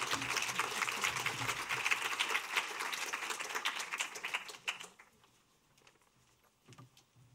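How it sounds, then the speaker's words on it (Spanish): Welcome applause for speaker Fernanda at a museum event, a crowd clapping steadily for about five seconds, then tapering off to a few scattered claps and quiet. "os, pido un, aplauso de bienvenida para, para Fernanda"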